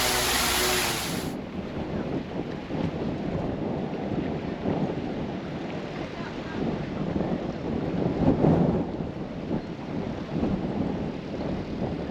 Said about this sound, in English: it's an interesting cruise with this wind this morning